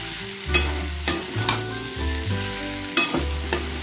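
Pumpkin and potato curry with a little sugar being stir-fried, loud sizzling broken by several sharp scrapes and knocks of a spatula against the pan, close up and without speech.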